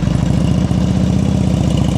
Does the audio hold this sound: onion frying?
no